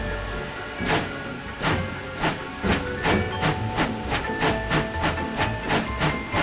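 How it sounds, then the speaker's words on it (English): A steam train chuffs in a steady, accelerating rhythm of hissing exhaust beats, moderately close, with a faint mechanical rumble underneath. "the postal train blasted its way back into Fawley Junction"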